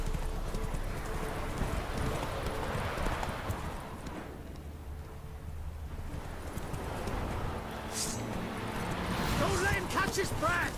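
Roach the horse gallops through a video game with rapid, steady clip-clop hoofbeats, close and continuous, with talking and a whinny over the hooves near the end.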